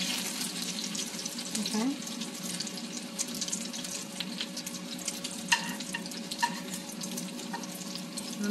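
Mackerel fritters frying in hot oil: a steady hiss runs throughout, with a few sharp clinks and a low hum underneath, and a brief spoken word near the start.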